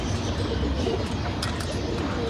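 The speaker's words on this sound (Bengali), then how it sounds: "দেখেন আমার কবুতর" Pet pigeons, mostly older hens, cooing in a loft, a soft low continuous burble close by against a noisy room background, with no speech.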